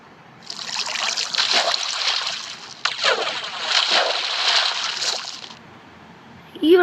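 Water splashes and trickles in the game Minecraft in a steady, fairly loud wash for about five seconds, with a brief break midway, then stops.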